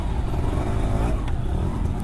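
Cars and motorcycles crawling in a traffic jam on a road in Pangkep, a steady close engine rumble with a motorbike idling nearby and no talk.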